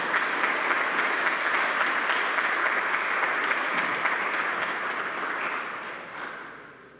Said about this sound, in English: Let's give a general round of applause for the University of Evansville class of 2020.